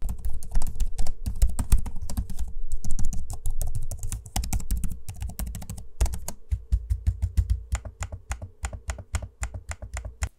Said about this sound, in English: Nice quiet click, but not a very soft dampened click. You still have a bit of that click noise.